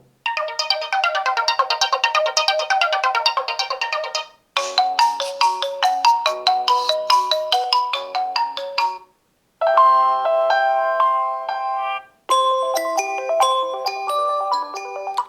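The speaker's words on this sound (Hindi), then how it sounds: "यहाँ पर कुछ रिंग टोन्स मैं चला के आपको दिखा देता हूँ" Four different ringtones play in turn from the single bottom speaker of a ZTE Blade A55 phone, each a bright melodic chime pattern separated by short silences, loud and close.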